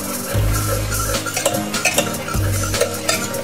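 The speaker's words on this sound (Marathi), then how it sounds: "आता आपण तिला पळीच्या सहाय्याने घोटून घेऊया" Cooked dal is mashed and stirred with a ladle in a pot, giving close, wet squelching and rhythmic scraping strokes with soft knocks of the ladle against the metal, repeated several times with no voices.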